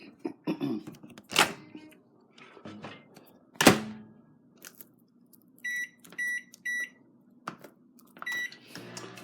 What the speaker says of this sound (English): I'm going to throw these in the microwave for 20 seconds.